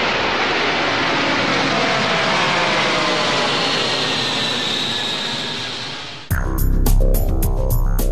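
Engines of an Antonov An-124 strategic airlifter roar in a loud, sustained broadband rush that fades slightly, then cuts abruptly near the end into a different, pulsing passage.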